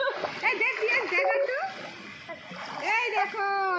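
Strong sea or river current splashing and rushing around people bathing while holding a rope tied to rocks on Little Andaman, heard close under continuous excited talk.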